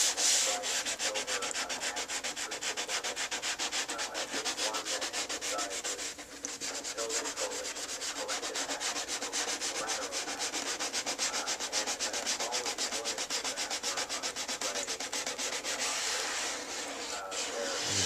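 Paint is sanded off a bicycle frame up to a line of masking tape, producing a loud, continuous, close-up rasping scrub that runs without a break.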